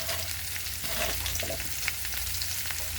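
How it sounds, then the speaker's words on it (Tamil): Onions and mixed vegetables sautéing in a pan for vegetable upma, a dense, steady close-up sizzle with faint scraping from stirring, no speech. "அந்த வெங்காயம் கொஞ்சம் நல்லா வதங்கணும்"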